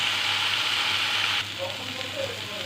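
Steady, loud sizzling of spiny gourd frying in hot oil fills the clip, easing slightly partway through with faint crackles.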